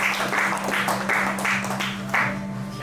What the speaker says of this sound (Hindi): सो एक बार जोरदार ताली